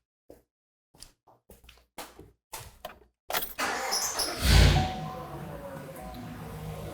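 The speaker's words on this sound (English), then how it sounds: "with the truck idling" A Chevy pickup truck with a 5.3L engine and a newly replaced high-pressure fuel pump cranks after a series of clicks and knocks, fires up with a loud surge, then settles into a steady, close idle.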